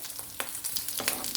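Fish coated in pepper masala fries in oil over a medium flame, a close, continuous crackling sizzle with brief sharper spatters.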